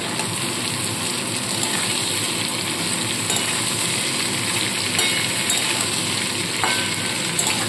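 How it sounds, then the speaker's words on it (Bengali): Steady, dense sizzling of mixed vegetables with capsicum frying in a pan, a continuous hiss with faint stirring sounds, no voices. "ক্যাপসিকাম দিয়ে আর 1 থেকে 2 মিনিট একটু নাড়াচাড়া করে সবজিগুলোকে সব তুলে নেব"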